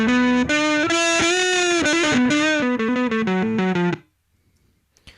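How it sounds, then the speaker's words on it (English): A crunchy, fuzz-like distorted electric lead guitar through a Softube amp in Reason 8 plays a bending, sustained melodic phrase for about four seconds, loud and upfront, then cuts to near silence. "is a nice lead guitar sound, which is considerably more crunchy than the other ones"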